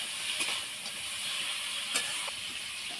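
Water poured into hot oil in a cooking pan, giving a faint continuous hissing sizzle with a few brief clinks and bursts, no talk.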